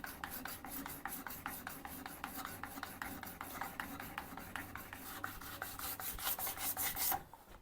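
A file cuts a small bevel on an adze edge in steady, rhythmic rasping strokes, roughly three per second, close up and unaccompanied.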